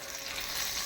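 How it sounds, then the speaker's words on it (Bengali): Eggplant frying in a pan on a home stove, a steady, close hiss of oil sizzling throughout with no talking over it. "এখন বেগুন ভাজি করতেছি"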